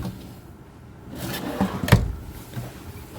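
A drawer slides and bumps shut inside a 2010 Forest River Georgetown 378TS RV, a soft scraping glide followed by one sharp knock, close and moderately loud against a quiet room.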